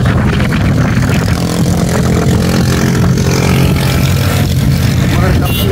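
A motorcycle engine drones steadily and loudly throughout a ride past a market in Karachi, with heavy wind rush and road noise around it and no pauses.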